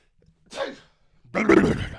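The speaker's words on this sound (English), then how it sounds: "I gotta sneeze" A man sneezes once after a short, faint inhale, ending in a loud, breathy burst close to the microphone, with quiet in between.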